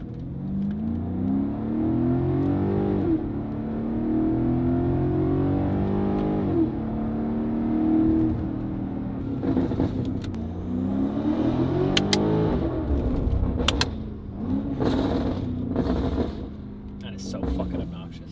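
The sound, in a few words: BMW M5 titanium exhaust revving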